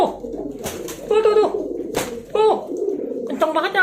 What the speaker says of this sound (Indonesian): Tuh guys, giringnya kencang banget guys.